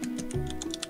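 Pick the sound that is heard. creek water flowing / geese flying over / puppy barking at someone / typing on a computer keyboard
typing on a computer keyboard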